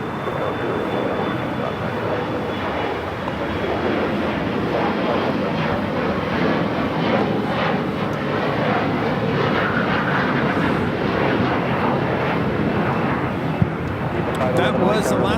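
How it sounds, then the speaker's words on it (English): An Embraer E175 regional jet taking off from LAX, a loud, steady broadband engine roar that holds strong throughout, with a voice talking over it. "That was Alaska Skywest 3446 taking off to Eugene on the E175"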